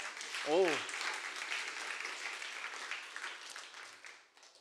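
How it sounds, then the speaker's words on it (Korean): A youth church congregation claps for a student in a steady, moderate round of applause, with a brief rising vocal whoop near the start, fading softly toward the end. "우리 주원 학생에게 박수 한번 할까요?"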